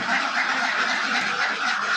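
Many ducks on a duck farm flock of about 250 birds quack in a dense, continuous chorus, loud and close throughout with no pauses.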